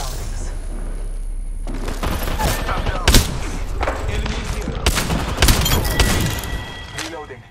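Gunfire in the battle royale game Apex Legends during a solo ranked match: repeated sharp shots and bursts with heavy thuds, loud and close, over a constant background of game sound and a speaking voice.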